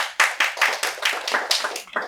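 A small audience at a talk on housing claps in a short, sparse burst of about a dozen distinct hand claps, loud and close.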